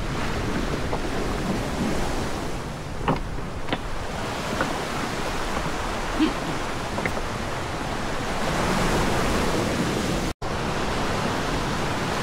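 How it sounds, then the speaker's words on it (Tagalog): Continuous roaring Pacific surf with wind buffeting the microphone, a steady wash of water broken by faint clicks and brief knocks of stones rattling as waves pull back. "Tumutunog yung mga bato pagka tatakay ng tubig eh."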